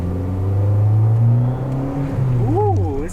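Fiat 500 Abarth with a 1.4L turbo engine, fitted with an aftermarket downpipe and intake, pulls hard under acceleration as a loud, steady low drone close by, with a voice rising over the engine near the end.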